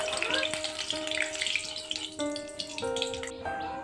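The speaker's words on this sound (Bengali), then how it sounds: "রান্নাটা আমি সর্ষের তেলে করব, তাই কড়াইতে সর্ষের তেল গরম বসিয়ে দিয়েছি। তারপরে দিয়ে দিলাম কালো জিরে ফোড়ন।" Nigella seeds tempering in hot mustard oil in a kadai, heard as a soft continuous crackle and sizzle at close range, with faint tonal kitchen sounds mixed in.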